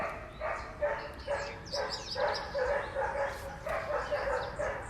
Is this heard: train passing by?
no